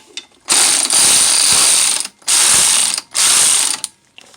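A ratchet loosens the alternator and power steering belt on a Subaru WRX/STI during timing belt work. It makes three loud, close bursts of rapid ratcheting, each about a second long, with short pauses between them.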